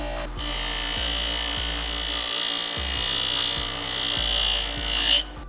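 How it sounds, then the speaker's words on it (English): An 80 and 180 grit flap wheel on a power tool grinding casting marks off a motorcycle brake caliper, a loud continuous whirring abrasion with a regular pulsing beat, close and without talk. "smooth out all the casting marks on top of the caliper. Just used a 80 and 180 grit flap wheel for this"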